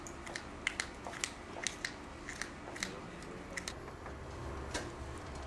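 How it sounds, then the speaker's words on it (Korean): Fine laboratory scissors snip human hair, washed in acetone, into small pieces for analysis: a steady series of quiet, crisp clicks and snips, close and faint, with no talking. "그런 다음 미세한 실험용 가위로 모발을 잘게 자른다."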